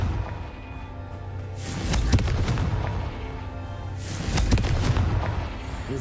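Two heavy blasts from the Confringo spell in Hogwarts Legacy, each a booming explosion with a rumbling tail, the first near two seconds and the second a little past four seconds, over steady game ambience.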